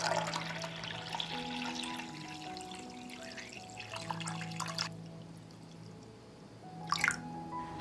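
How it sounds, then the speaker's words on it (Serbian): Water is poured into a pot holding jars set on a cloth for pasteurizing, a trickling, dripping flow that stops midway and then returns as a brief splash. "I u šerpu sipam vodu do visine poklopca."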